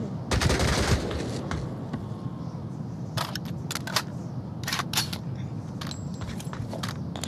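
Gunfire in the VR shooter Onward, with a burst of rapid automatic fire at the start, then scattered sharp shots and short volleys at varying distances over game ambience.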